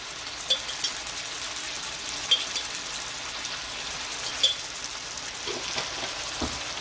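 Ginger-garlic paste and spices sizzle steadily in a hot kadai as turmeric powder goes in, a dense continuous frying hiss with a few faint clinks, close and alone.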